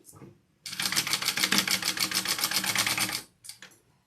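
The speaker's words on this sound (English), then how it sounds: "I'm sewing this right sides together." A sewing machine runs steadily for almost three seconds with a fast, even mechanical clatter while stitching fabric right sides together, then stops and gives a short final burst.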